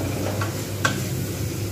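Spices, turmeric and tomatoes are stir-fried in a pan for a Bengali moong dal with rohu fish head, giving a steady close sizzle with a light scrape or clink from the spoon partway through.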